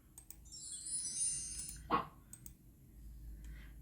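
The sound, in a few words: computer mouse clicking during online lesson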